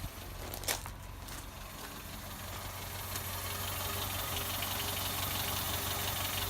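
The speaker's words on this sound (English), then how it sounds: "Let's go and just look at the engine running." A 1980 Volvo 345 with a Renault 1.4 engine idles steadily nearby, a continuous low throbbing rumble with a faint rhythmic tick that swells slightly in level toward the end.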